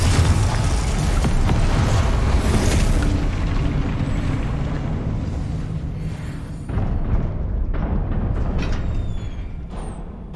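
Confringo fire spell explosions in the video game Hogwarts Legacy: loud continuous booming blasts and roaring rumble, a fresh burst midway, then crackling debris as the noise fades.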